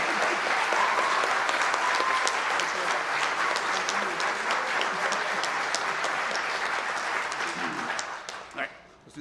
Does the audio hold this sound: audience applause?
yes